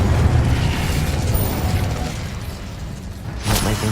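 An Incendio fire spell is cast in Hogwarts Legacy, a loud roaring fiery rush with a heavy low rumble, building to a sharp crackling burst near the end.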